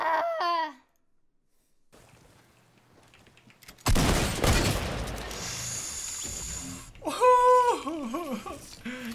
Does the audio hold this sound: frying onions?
no